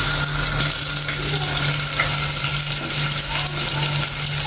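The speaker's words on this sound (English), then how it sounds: "Now we are going to first put the onions" Chopped onions frying in a pan for a Kenyan chicken dish, giving a steady, close sizzle with faint stirring scrapes throughout, no talking.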